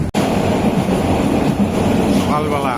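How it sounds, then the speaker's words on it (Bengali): Steady rumbling of a morning train running on the rails after leaving Laksam station toward Feni, Bangladesh, heard as a continuous near roar with a brief dropout at the start. "সকালবেলা ট্রেন চলছে।"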